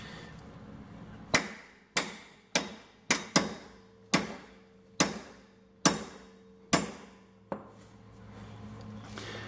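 Hammer blows on a sacrificial bolt, driving apart the hub flange on a Jeep WJ: about ten sharp metallic strikes at a steady rhythm, loud and close, each ringing briefly before the next, with no talking.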